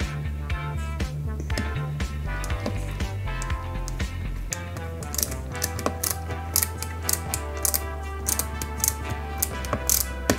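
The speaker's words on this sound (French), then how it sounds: "on va venir y mettre tout simplement une grosse vis DM ici" A large screw is driven into a 1/8-scale Volvo Amazon 122s model kit. It makes close, rhythmic ratcheting clicks that become sharper and more separate toward the end.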